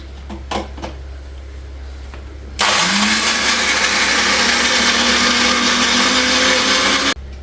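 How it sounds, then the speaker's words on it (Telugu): A mixer grinder roars loudly and steadily for about four and a half seconds, grinding fried red chilies, coriander seeds, cumin and garlic, with its motor pitch rising slightly as it spins up, then cuts off abruptly. "ఫ్రై చేసుకున్న మిర్చి అండ్ ధనియాలు జీలకర్ర దాంట్లో వెల్లుల్లి వేసి ఫ్రై అదే మిక్సీ చేస్తున్నాం"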